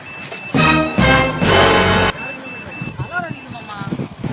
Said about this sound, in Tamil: அலாரம் அடிக்குது.